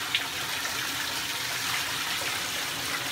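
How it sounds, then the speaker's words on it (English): Water poured out onto a small Christmas tree indoors, a steady broadband wash and trickle that runs continuously and fairly quietly for about three seconds, with no voices. "I'm gonna pour some water on here"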